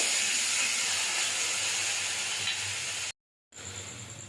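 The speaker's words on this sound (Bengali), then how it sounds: "পেঁয়াজ বাটা একটু ভেজে নেব" Onion paste frying in a pan, a steady close hiss and sizzle that runs without a break and then cuts out briefly before the sizzling resumes.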